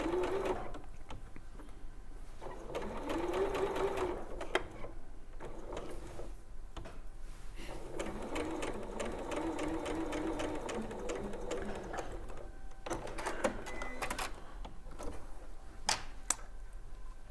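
Sewing machine stitching around the curved bottom and top edges of an oval piece, quiet whirring bursts of a few stitches each, stopping and restarting repeatedly with short pauses between runs.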